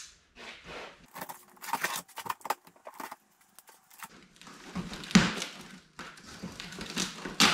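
Paper wrapped in cellophane being opened from a package of ATV lift parts, with sharp crinkling, tearing and rustling bursts that come in irregular clusters, close and moderately loud.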